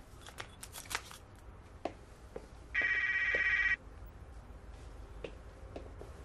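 Telephone bell ringing in a single sustained electronic burst of about a second, fairly loud and near, over quiet room tone with faint clicks and shuffling.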